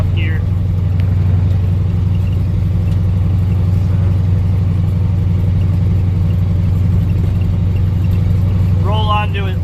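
A 1985 Ford F-8000 truck with a turbocharged CAT 3208T diesel pulls in low range top gear, its deep engine drone steady and loud throughout, with someone talking briefly near the end.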